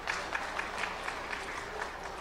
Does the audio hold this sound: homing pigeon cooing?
no